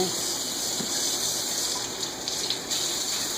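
Water runs steadily from a tap onto cheesecloth being dampened for blackberry jelly making, a continuous close gushing hiss with no pauses.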